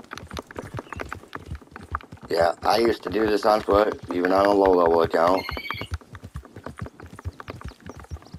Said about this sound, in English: But it's just simple to grab your horse and just ride over there.